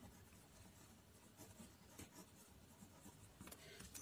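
Handwriting a sentence, pen or pencil scratching across paper in quiet, soft intermittent strokes, close and faint, with no talk.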